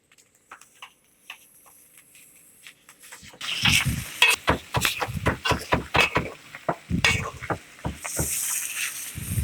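Minced meat sizzles and scrapes in a hot pan, with a spatula stirring in irregular strokes; quiet at first, then loud crackling frying takes over.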